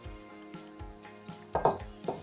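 Grinding garlic cloves for a homemade teeth whitening paste with baking soda, a series of dull knocking pounds in a slow irregular rhythm, close and fairly faint, with no talk.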